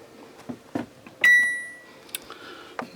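A microwave oven in a 2005 Fleetwood Fiesta class A motorhome gives a single sharp electronic beep that rings out and fades, with a few soft clicks and taps around it.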